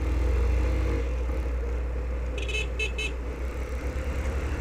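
Busy city road traffic near Largo do Tanque in Brazil: a steady rumble of engines runs throughout, and a few short, high car-horn toots sound in quick succession midway through.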